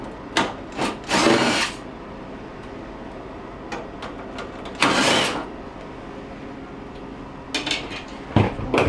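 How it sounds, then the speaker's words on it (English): A power drill backs out the two screws at the top of a GE refrigerator's evaporator fan tower, with a few short whirring bursts separated by light clicks and handling taps, up close. "There are 2 screws at the top of our tower that we're going to take off now."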